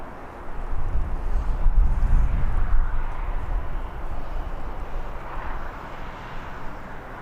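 A Ryanair airliner on final approach at Birmingham Airport makes a distant, low rumbling roar that swells and then slowly fades, with no voices.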